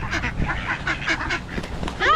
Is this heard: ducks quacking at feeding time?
yes